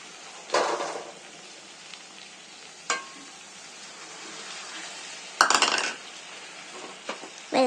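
Tomatoes and okra cooking in a pan are stirred with a utensil, giving a few scattered scraping clunks over a faint, steady frying hiss, close by.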